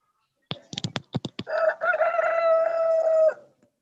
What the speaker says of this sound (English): is he a cock or a hen out there?